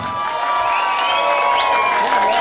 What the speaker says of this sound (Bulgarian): Вашите бурни аплодисменти за Роксана!